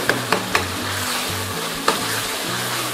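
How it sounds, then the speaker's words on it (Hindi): Chillies and tomatoes frying in a pan for kadhi pakora, a steady sizzle broken by a few sharp clicks of a spoon, heard close with no talking. "सभी मिर्चों को जो है इसके साथ टमाटर के साथ ही जो है थोड़ी देर के लिए भूनना है।"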